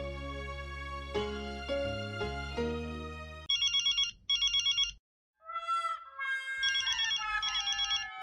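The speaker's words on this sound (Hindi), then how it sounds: "फोन बज रहा है, उठाइए ना।" Mobile phone ringtone playing in a home: a melodic tune with deep bass notes gives way to repeated bright electronic ring bursts, broken by a brief pause, loud and close.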